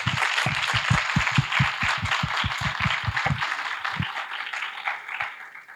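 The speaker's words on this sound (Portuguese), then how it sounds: "eu peço para a Ana uma salva de palmas." An audience at an academic plenary conference on Portuguese literature gives a round of applause, with strong rhythmic claps near the start that thin out and fade to scattered claps.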